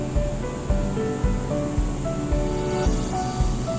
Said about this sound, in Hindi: टमाटर को भी अच्छी तरह से हम भून लेंगे।